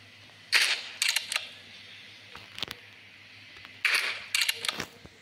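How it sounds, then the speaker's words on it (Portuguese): Two sharp rifle shots in the video game American Marksman, each followed by quick metallic clicks, spaced a few seconds apart. "foi 2 tiros"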